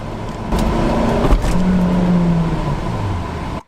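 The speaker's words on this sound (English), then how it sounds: "That is the sound of the car in third gear popping out under load." An eight-years-abandoned Vauxhall Corsa VXR drives at about thirty miles an hour in third gear, its engine droning steadily, then a clunk as the gearbox pops out of gear under load and the revs shift, recorded from inside the car.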